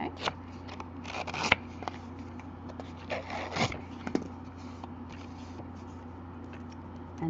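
A distressor tool roughens the edges of a paper card with quiet, scattered scraping strokes and short rasps, close up against a low steady background hum.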